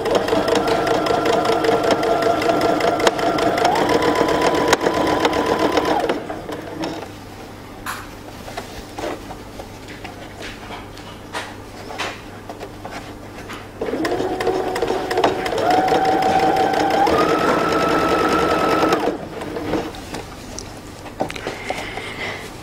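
A sewing machine stitches the waistband of drawstring pants. It runs in two loud, close bursts with a quieter pause between them, and the motor pitch steps up during each run.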